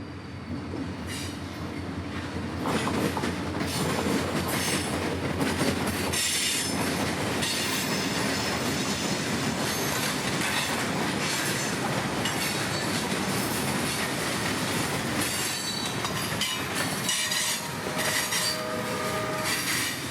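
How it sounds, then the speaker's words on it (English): Freight train L791 heading north out of Tampa toward Clearwater with a short string of rock cars and a couple of tank cars rolls past nearby, loud steady rumble with wheel clatter and sharp squeals throughout. "Coming north out of Tampa and taking that route this morning would be L791, with a short train of rock and a couple tankers for Clearwater"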